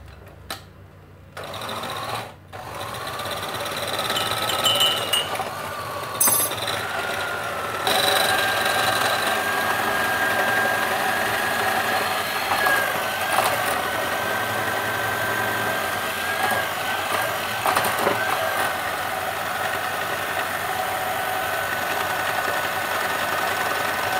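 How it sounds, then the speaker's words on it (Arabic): Electric mixer whipping a mini tiramisu cheesecake filling while gelatin is added bit by bit, a steady loud motor whine running almost without a break. "صافي هنا غادي نطرب وانا كنضيف في داك الجيلاتين"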